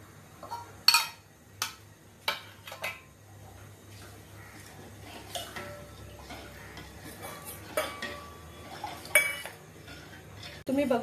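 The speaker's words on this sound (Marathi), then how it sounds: "आणि कंटिन्यू ढवळत आहेच आहे।" Metal spoon stirring Maharashtrian kadhi thickened with chickpea flour in a pot, producing irregular clinks and scrapes against the rim, close and fairly soft, with quiet gaps between strokes.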